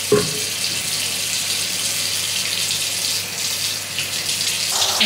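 Water runs steadily from a tap into a sink while a face is rinsed with soapy foam, a continuous close gushing hiss with a brief splash near the start and end.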